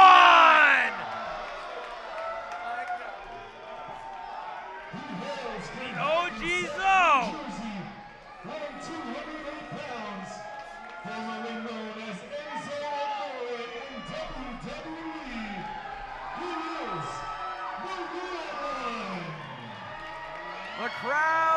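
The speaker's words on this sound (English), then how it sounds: "The crowd comes alive for the former Cruiserweight Champion." A wrestling show crowd cheers, whoops and yells for a former Cruiserweight Champion's entrance, a loud sustained roar with shouts rising and falling throughout, under commentators' talk.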